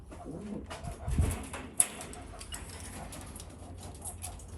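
Racing pigeons in individual breeding cages coo softly and intermittently, close by, with a low murmuring texture under light background rustle and one sharp knock partway through.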